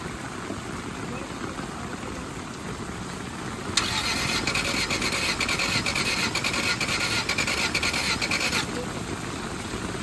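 A flooded Honda F22 engine cranks over and over without catching, a steady rapid starter churn that swells louder midway and then eases back, with people talking nearby.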